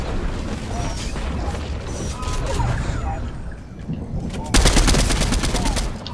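Rapid gunfire crackles in Fortnite, scattered shots over busy game noise, then a loud close burst of fast repeated shots near the end, with a voice speaking over the action.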